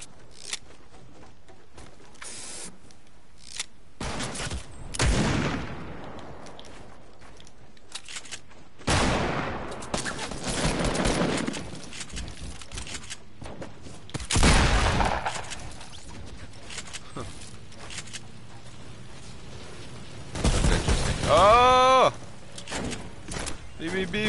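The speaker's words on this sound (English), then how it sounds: "I would kill him with this crappy gun." Gunfire from a Fortnite gun, several separate bursts of shots spread across the stretch, loud against a quieter game background, with someone talking in between.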